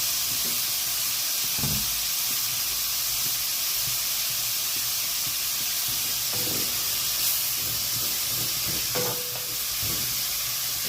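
Tomatoes hit a hot pan with frying vegetables and peppers, filling the air with a steady, loud hiss and sizzle, broken by a few low clunks and scrapes of stirring, close up with no talking.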